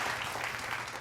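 Brief burst of audience clapping, a dense even patter from a group of people, steady and moderately loud with no talking over it.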